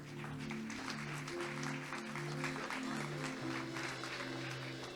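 Congregation applauding during a church sermon, sustained broad clapping from many people under sustained keyboard-like chords playing beneath it.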